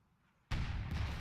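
A tank cannon fires in a World War II video game battle for Caen, a sudden loud boom that is followed almost at once by a second blast and a sustained roaring rumble, with no speech.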